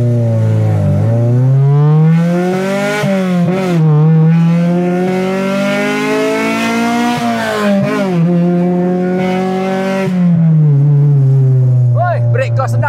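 Honda Civic EG8 with a VTEC engine drives and accelerates, its engine note rising in long sweeps and dropping at shifts, loud and close from inside the cabin, with brief speech over it.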